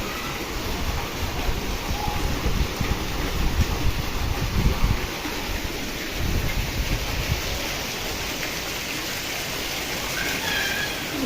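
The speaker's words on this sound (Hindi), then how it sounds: "और आज लगी है तेज बारिश।" Heavy rain pours down steadily outdoors in a street lane, a dense continuous hiss that swells slightly midway and holds loud throughout with no voices.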